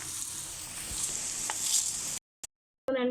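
Urad dal and small dried red chillies frying in hot oil for a South Indian tempering, a steady close sizzle for about two seconds, then silence broken by a brief burst and a return of sizzling.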